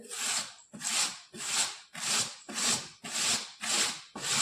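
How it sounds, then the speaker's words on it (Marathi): A potato is grated on a coarse metal grater in eight even, rhythmic rasping strokes, close and loud, each stroke a scraping swoosh followed by a brief gap. "तर आता ह्या किसणीवर आपण बटाटा किसून घेऊ।"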